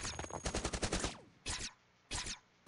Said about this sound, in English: Oh no, here come the missiles.